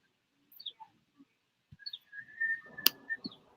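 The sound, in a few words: birds chirping outside an open window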